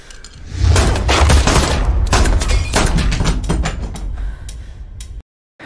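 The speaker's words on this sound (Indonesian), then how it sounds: "Rico yang kaget tidak mengantisipasi serbuan peluru dari Sophie" A burst of gunfire in a film scene gives loud, rapid cracking shots that rattle densely for several seconds with a heavy low rumble, then cut abruptly to silence.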